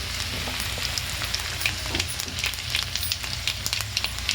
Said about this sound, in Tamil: கடுகும் இப்போது பொடிஞ்சு வருது.